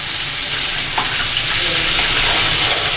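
Half a kilo of boiled chicken pieces sizzle loudly and continuously in a pan with fried ginger-garlic paste while being stir-fried for restaurant-style Chinese rice. No voices can be heard.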